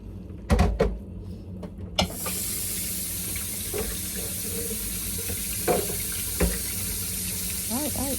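Tap water pours steadily into a container for preparing baby food, a continuous hiss after a few knocks, with people talking over it and occasional clatter.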